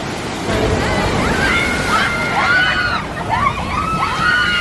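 Water splashes and roars as a raft drops on the Grizzly River Rapids ride at Disneyland, a loud, steady surging wash with excited voices audible over it.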